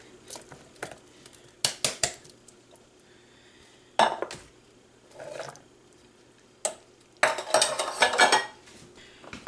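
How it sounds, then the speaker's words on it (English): Vegetables are stirred into a salmon casserole, heard as scattered bursts of a utensil scraping and clinking against a dish, some sharp and some longer, separated by near silence. "give that a stir"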